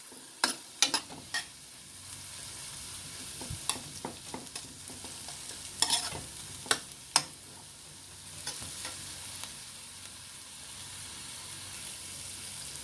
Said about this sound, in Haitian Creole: les épices moi fin frit, pas quitter le brûler